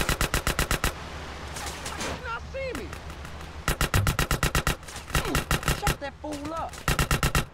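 Rapid bursts of GTA San Andreas gunfire crack out in quick volleys, loud and close, with short pauses between strings of shots and a voice talking underneath.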